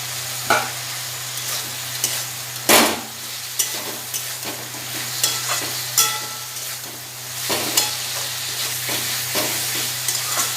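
Soaked potatoes and pointed gourd frying in a pan, a continuous close sizzle with repeated scraping stir strokes and occasional clunks of the spatula against the pan.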